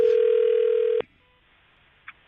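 A telephone line sounds a steady, loud tone for about a second and then cuts off abruptly, leaving near silence broken by one faint click.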